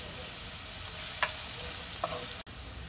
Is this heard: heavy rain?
no